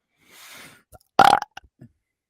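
A single loud, croaky burp erupts after a faint breathy sound, followed by a few small clicks and quiet mouth noises.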